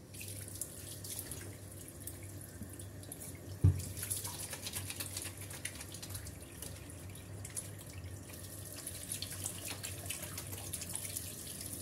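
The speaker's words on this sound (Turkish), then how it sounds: "Şu ellerimi ben bir yıkayayım." Running tap water pours steadily into a kitchen sink as hands are washed under it, with a brief clatter partway through; the flow stays constant and moderately close throughout, with no talking.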